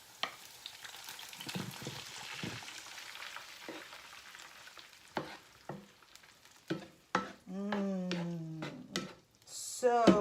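Sautéed sausage sizzles in a pan as jarred tomatoes are added, with soft frying crackle, stirring and scraping sounds, and clanking from the jar. A person speaks over parts of it.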